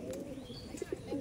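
Madrasi pigeons kept for sale at a home loft, giving soft low coos with a couple of short distinct calls, faint and close, with no voices.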